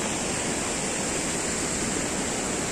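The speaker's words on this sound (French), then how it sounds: "Je sais pas si tu m'entends là, parce que je suis près de l'eau." Water rushing steadily close by outdoors, a continuous broadband wash like a stream or small waterfall, loud and unbroken with no voices.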